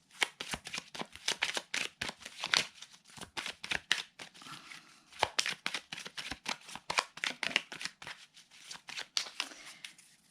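Tarot cards being shuffled and cut by hand, heard close up as a dense run of crisp, rapid card slaps and riffles in uneven bursts, with no talking.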